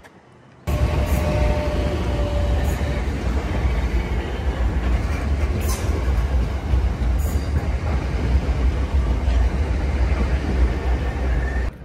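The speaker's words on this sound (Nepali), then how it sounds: "हामी ग्रिनविच जाने ट्रेन पनि आइसकेको छ" A train bound for Greenwich, London, rumbles steadily and loudly into the station throughout, a continuous low roar with faint rattling and an occasional high squeal.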